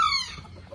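A brief, fairly quiet chicken call from backyard chickens and roosters at a feeder, a single squawk that trails off quickly.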